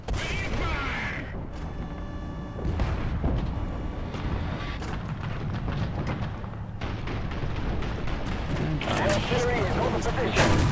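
Tank gunfire and battle noise from the War Thunder video game, with T-34-1940, M4 and Panzer III L tanks, dense rumbling booms and impacts running continuously under a man's speech.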